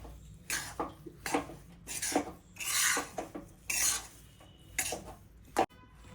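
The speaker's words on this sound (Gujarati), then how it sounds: "બધું સારી રીતે હલાવી અને મિક્સ કરી લેશું" A spoon scrapes and clinks against a pan in repeated stirring strokes, mixing coconut and fried edible gum for gundarpak, close and fairly loud, with no talking.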